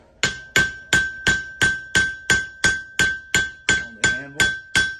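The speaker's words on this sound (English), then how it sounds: "I'm going to try to upset it with this hammer here." A hammer upsets a forged Bowie knife blade on an anvil, about a dozen sharp ringing strikes at a steady, even rhythm, loud and close, each with a bright metallic ring.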